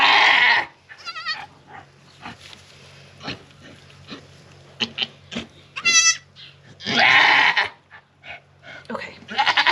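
A goat bleats loudly during a difficult birth with a malpositioned kid, with bursts of close, strained cries at the start, middle and end, separated by quieter rustling and a person talking softly.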